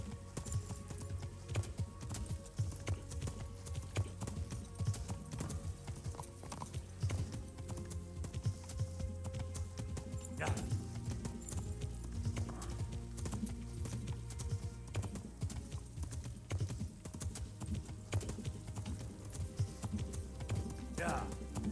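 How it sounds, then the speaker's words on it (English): Rhythmic clip-clop of horse hooves at a steady trotting pace in the video game Kingdom Come: Deliverance, with occasional whinnies and faint talking underneath. "riding the horse feels fine"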